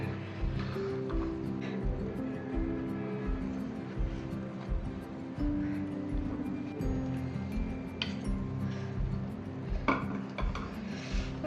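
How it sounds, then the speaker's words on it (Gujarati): Metal spoon scraping and clinking in a pan as 500 grams of jaggery is stirred into mawa for adadiya pak, a steady busy scraping that runs throughout over a constant low hum. "હવે આ 500 ગ્રામ ગોળ છે તે મિક્સ કરી દઈએ."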